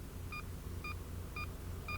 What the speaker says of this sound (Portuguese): informa por meio da variação da frequência e do tom de um bip característico a distância